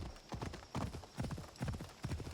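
Rapid clip-clop of horse hooves galloping in the video game Assassin's Creed Odyssey, a steady rhythmic pounding that is close, loud and continuous, with no talk over it.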